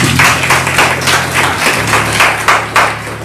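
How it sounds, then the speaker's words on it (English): A church congregation claps in praise, a steady rhythmic run of hand claps over a low sustained tone, close and moderately loud with no talking. "give them a hand clap of praise"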